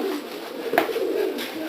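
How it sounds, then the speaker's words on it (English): A pigeon coos softly while being hand-fed peas, a low, near, murmuring call with a brief sharp rustle in the middle. "It's easier when somebody else holds the pigeon for you, Peter."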